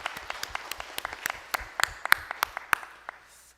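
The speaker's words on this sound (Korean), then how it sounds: "하나님께 영광의 박수를 돌려드립니다" A church congregation at a Sunday morning service gives a short round of applause, a couple of dozen separate claps in a loose, uneven rhythm that thins out and stops within a few seconds.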